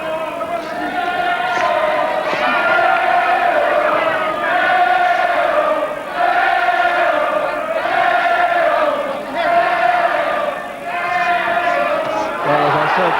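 Boxing crowd in Manchester in 1986 chanting and cheering for Najib Daho: loud, rhythmic chants rise and fall in repeated waves throughout, a dense roar of many voices.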